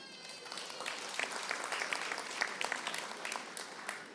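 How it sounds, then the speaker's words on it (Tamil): An audience at a Tamil debate show (pattimandram) breaks into applause, a dense, even patter of many hands clapping for several seconds. "இந்த மாதிரி ஏதாவது சொன்னால் நல்லா கைத்தட்டணும்"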